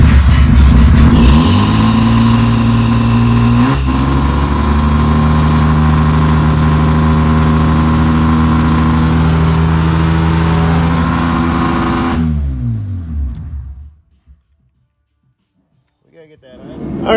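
A Mazda 13B rotary engine swapped into a BMW Z3 drones steadily at idle with a buzzy, even tone and some revving, close and loud, then cuts off into near silence before a faint noise returns.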